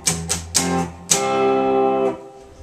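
Electric guitar with distortion plays two sharp dead-muted string strums, then a sustained power chord that rings out about a second before being choked off, as in a pop-punk outro.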